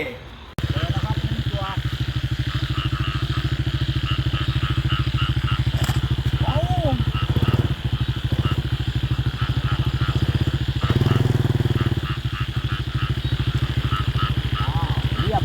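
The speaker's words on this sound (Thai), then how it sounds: "อุปกรณ์ครบมอเตอร์ไซค์พร้อมแล้ว ไปกันเลย" A motorcycle in rural northeast Thailand, heading out at night to catch frogs, hums with a steady, close engine drone throughout the ride.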